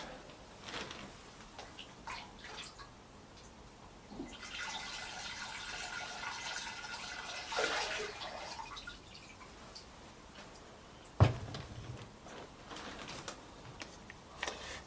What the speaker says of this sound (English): that's just run some water through it